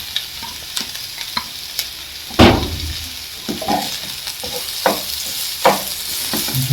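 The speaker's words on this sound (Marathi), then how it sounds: "सॉटे केलं तितून कॅप्सिकम घालता आणि कॅबेज घालता" Capsicum and cabbage sauté in a pan for veg spring rolls, with a steady sizzle broken by a loud spatula scrape and scattered stirring knocks, close and with no talk.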